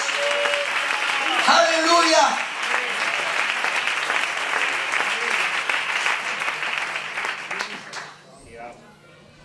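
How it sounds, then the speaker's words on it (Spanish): A church congregation claps loudly and steadily, with voices calling out over the applause, before the clapping fades away at the end. "Aplaude fuerte para Dios."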